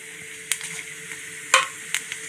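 Mustard seeds and cumin in a small amount of hot oil in a kitchen pan give a faint steady sizzle, broken by three sharp crackling pops as the seeds burst.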